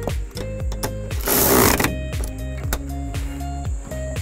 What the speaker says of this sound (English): I'm just gonna tighten these studs down.